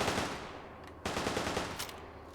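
Shotgun revolver firing buckshot in Fallout 4, two loud close blasts about a second apart, each a sharp crack with a rolling tail, over steady in-game background noise.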